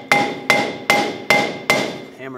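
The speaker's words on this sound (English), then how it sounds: "take a hammer," Five evenly spaced, ringing metal hammer blows land close and loud as a rear upper control arm is hammered into place on a Ford Focus, followed by a brief scraping sound.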